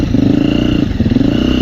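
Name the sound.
four-stroke dirt bike engine revving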